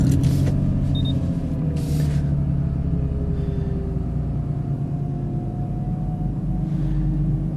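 A cold, just-started car fitted with an HPF turbo kit drives on a test run, a steady close engine rumble and road drone filling the cabin with no voices.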